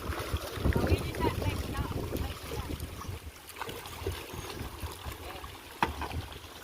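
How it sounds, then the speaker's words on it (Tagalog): A pump boat arrives across the water, its low engine rumble rolling along steadily under gusty wind buffeting and the splash of water, with faint voices nearby. "Iba na ang sinasakyan nilang pambot"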